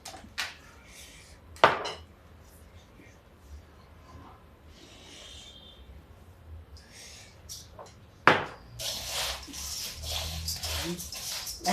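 Bhelpuri ingredients with bhujia being mixed in a bowl at home, giving soft scraping and clinking with a few sharp knocks of a spoon against the dish, then a louder stretch of rustling stirring near the end.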